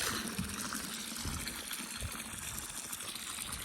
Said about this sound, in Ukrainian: і вже напускається водичка